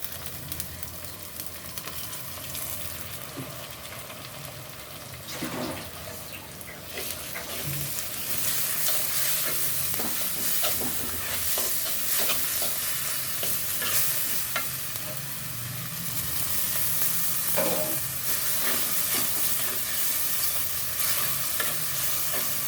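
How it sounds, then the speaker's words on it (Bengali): Onions frying in oil in a clay pot and being stirred, with a steady close sizzle throughout and repeated scraping stirs, louder in the second half; no talking. "দেখো আমার পেঁয়াজটা প্রায় ভাজা হয়ে গেছে"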